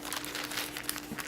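A medium cellophane cello treat bag crinkles up close, a soft, continuous papery rustle lasting about a second, quiet and steady with no voices.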